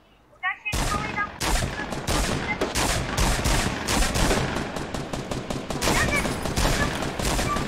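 Rapid gunfire from the video game Fortnite crackles in a dense, continuous burst of overlapping shots after a brief quiet start, loud and sustained with faint voices beneath.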